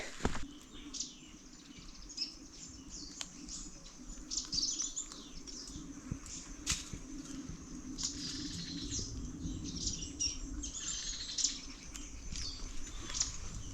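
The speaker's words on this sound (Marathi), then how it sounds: "पक्ष्यांचे मस्त आवाज येत आहेत" Birds chirp and tweet intermittently in a quiet forest setting on the descent from Prachitgad fort near Shrungarpur, Maharashtra, scattered calls near and far, with light rustling and no talking.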